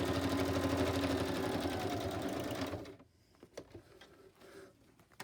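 A sewing machine stitches through a paper envelope with a fast, loud mechanical whir for nearly three seconds, then stops, leaving quiet handling clicks and rustles.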